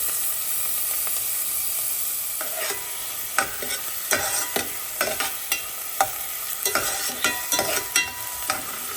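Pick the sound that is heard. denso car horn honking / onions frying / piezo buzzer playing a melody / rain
onions frying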